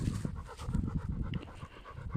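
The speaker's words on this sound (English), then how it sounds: "walking the old dog." An old dog pants on a woodland walk, making rapid rhythmic breathy huffs close to the microphone, with rustling and footstep noise underneath.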